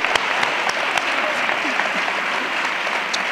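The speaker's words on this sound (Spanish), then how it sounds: "¡Un fuerte aplauso!" Loud applause from a crowd at an anniversary gala, steady dense clapping throughout with a few sharper individual claps standing out.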